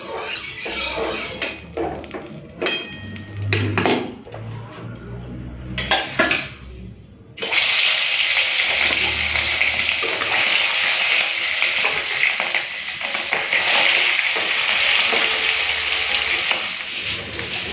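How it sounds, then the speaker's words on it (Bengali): Rohu fish frying in hot oil in a home kitchen, a loud steady sizzle that swells after a few seconds of softer clatter and stirring and then holds, with faint clinks of utensils. "তেলটা ভালো করে গরম হয়ে গেছে, মাছগুলো ভেজে নেব।"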